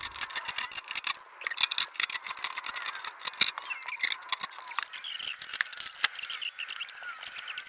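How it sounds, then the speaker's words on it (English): Screws being backed out of the rear panel of a Cuisinart TOA-65 digital air fryer toaster oven, a steady run of faint, scratchy metal-on-metal grinding and small squeaks from the driver, close by and with no voices. "beginning by removing all the back screws"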